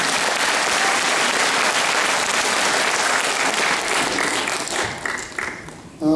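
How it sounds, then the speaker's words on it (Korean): Loud, sustained applause from an audience in Gongju thanking a lecturer after a public lecture opposing the removal of Geum River weirs, dying down at the end as a voice begins. "감사의 박수, 큰 박수를 부탁드립니다."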